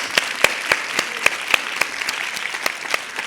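An audience at a career talk on the insurance market claps steadily, a dense patter with sharper individual claps standing out, moderately loud and with no voices.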